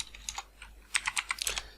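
Rapid computer keyboard typing while code is entered for a Shopify theme app extension, close and fairly quiet, with a sparse opening and a denser burst of clicking keystrokes toward the end.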